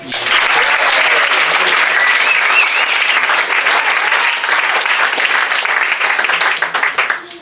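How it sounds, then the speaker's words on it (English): A wedding reception crowd gives a sustained round of applause for the bride. The dense, close clapping lasts about seven seconds and fades at the end. "if Misha can have a round of applause"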